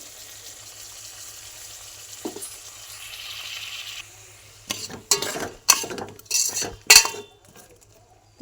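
A spoon scrapes and clinks against a cooking pot as sambar is stirred, a quiet simmer at first, then a burst of sharp metallic strokes near the end.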